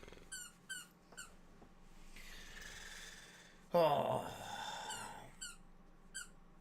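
A dog chews a squeaky toy indoors, giving repeated high, rhythmic squeaks in short bursts, with sustained squealing stretches and brief talk from a person.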